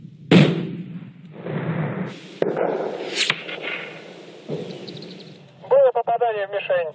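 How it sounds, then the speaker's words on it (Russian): Rifle shots from a sniper at a long-range shooting range on a sunny day, several sharp, loud cracks in quick succession with a voice speaking between them. "Выстрел. Выстрел."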